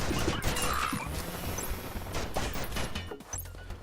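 Rapid Uzi bursts in the video game Juicy Realm, a stream of quick snappy shots mixed with crashes and impacts, steady and fairly loud throughout with no talking.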